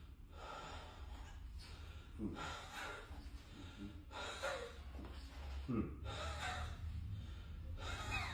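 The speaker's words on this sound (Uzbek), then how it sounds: "Aka, nafas olib chiqaramiz." A patient under spinal bone-setting treatment takes deep breaths in and out, several loud, close, rhythmic inhale-exhale cycles a few seconds apart, with breathy snorting on each breath.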